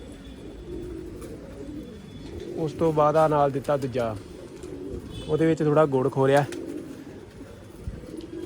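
Pigeons coo nearby in two soft, rolling bouts while someone speaks steadily over a faint background hum.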